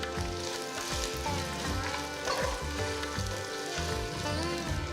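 Thinly sliced onion fries in hot oil with a loud, steady sizzle and crackle, close and continuous, over a low background hum, with no speech.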